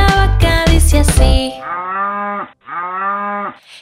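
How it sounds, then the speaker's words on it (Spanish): A cow moos twice in long, drawn-out calls, loud and close, following a burst of children's song with music that cuts off before the lowing begins. "Quieren oír cómo hace la vaca"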